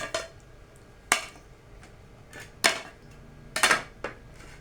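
Plates and dishes being set out for serving soft, freshly cooked pumpkin dodol: five or six sharp ceramic clinks and clatters spaced irregularly, close and fairly loud over a quiet room, with no talking.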